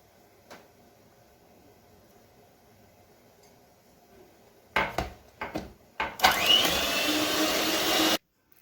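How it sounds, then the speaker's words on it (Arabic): An electric mixer beats eggs, sugar and oil for a rawani (basbousa) cake batter. A few knocks and clatters come first, then a loud, steady, close whirring runs for about two seconds and cuts off abruptly. "بعد ما ضربت البيض بالسكر شوية كده هنزل بالزيت واضرب برضو تاني"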